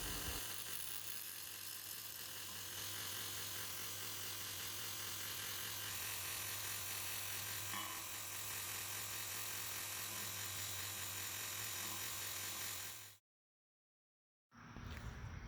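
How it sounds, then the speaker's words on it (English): A high-speed grinder works steadily on the tip of a hardened steel Civivi NoX knife blade, giving a continuous high whine at close range for about thirteen seconds before it cuts off abruptly. "here's part of the sharpening with the grinder"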